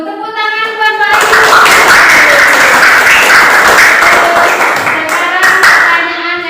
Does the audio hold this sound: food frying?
no